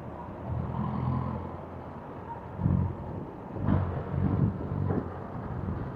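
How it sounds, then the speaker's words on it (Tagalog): Vehicles pass beside a rider on a highway and street, heard as rumbling swells and whooshes of traffic rising and fading over steady wind buffeting, with no talking. "maririnig nyo medyo maingay ang mga tunog ng mga sasakyan sa tabi natin"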